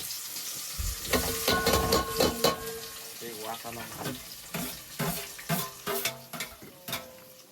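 Whole spices, onion and tomato frying in a pan aboard a fishing boat at sea, a broad hiss and sizzle with clattering stirs and a few knocks, running steadily with a background tone.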